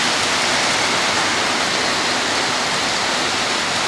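Heavy rain pouring down in a dense, steady roar, loud and unbroken.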